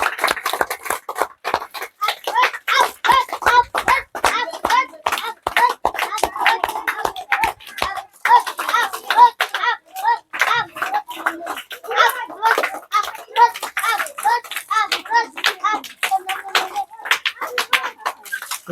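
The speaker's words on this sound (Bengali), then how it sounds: "সবাই জোরে করে হাততালি হবে" A group claps hard during a lively game contest of blowing balls off a glass tower, sharp individual claps rattling out in quick, uneven bursts for nearly twenty seconds.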